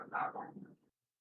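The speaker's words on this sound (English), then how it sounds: "I just have to call my dogs. They're on one today. They're pissed off." An agitated dog gives a brief whining yelp-like vocalization, close and fairly faint, trailing off into silence.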